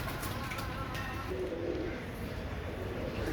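A pair of Royal Teddy pigeons coos softly in repeated low, throaty calls against a steady background hum.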